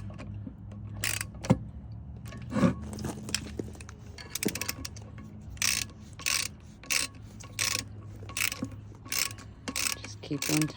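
Clamps on a three-piece exhaust manifold joint kit for a CAT 6NZ engine are tightened with a ratchet, giving short bursts of clicking and scraping separated by pauses, fairly close and moderately quiet.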